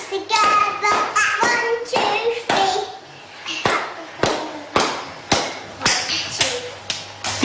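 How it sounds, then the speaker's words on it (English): Hands clap in a steady series of sharp, fairly close slaps, roughly one or two per second, mixed in with a voice and a child's chatter. "Clap your hands together,"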